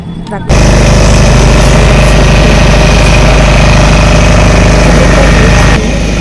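A motorboat engine roars loud and steady at close range on Chilika Lake, a droning low rumble with a constant mechanical vibration throughout.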